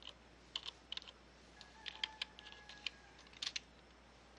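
Someone types a command on a computer keyboard, a short quiet sequence of crisp individual key clicks in uneven bursts with small pauses between them, close by and alone.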